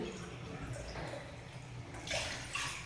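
Water splashes and pours from a tumbler into a cooking vessel in short bursts, with a brighter gush toward the end, heard close up.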